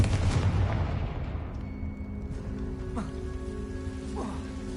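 A Confringo fire spell bursts in the video game Hogwarts Legacy, a loud booming blast at the start that decays into a crackling rumble, with a couple of fainter impacts following.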